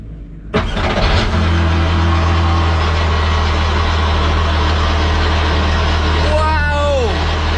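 A race car engine cranks and fires up, then settles into a loud, steady, deep idle, with a brief rising whine late on and a voice speaking over it.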